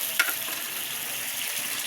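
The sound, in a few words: anchovies frying and sizzling with onion and dried chili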